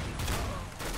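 Gunfire from the video game CS:GO bursts out in a loud, dense crackle of shots lasting about a second, with no talk over it.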